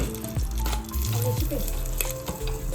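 Peanuts, ginger and garlic frying in a pan, a constant close sizzle and crackle with tonal background hum and occasional stirring knocks.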